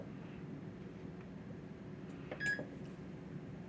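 An air fryer oven being set to bake, with a short button press and a brief electronic beep over a steady low hum of running fan noise.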